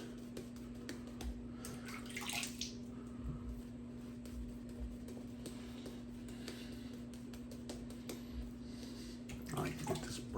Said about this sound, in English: I like to get this brush really wet when I do these Shavette shaves.